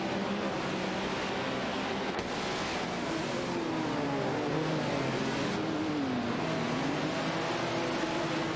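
Race cars, including an Ozolo Par 9 and a Ferrari 312PB, compete in an AI racing video game, giving a continuous engine drone whose pitch rises and sweeps as the cars accelerate, heard steadily with no talk.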